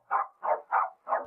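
A dog barks four times in a steady rhythm, each bark a full, close, fairly loud woof with short gaps between, and no voices alongside.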